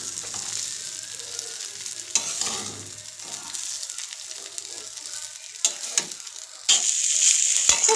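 Cooked rice is stirred through other ingredients in a hot frying pan, with intermittent scraping and clattering strokes over a soft sizzle, and a louder, brighter sizzle that swells near the end.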